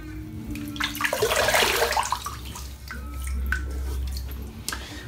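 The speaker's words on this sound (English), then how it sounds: "Wet the face." Water splashes and trickles as a man cups it to wet his face before shaving, a burst of splashing over running water that settles into a steady low flow with small drips.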